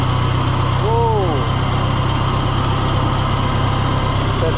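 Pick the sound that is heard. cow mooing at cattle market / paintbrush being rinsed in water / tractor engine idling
tractor engine idling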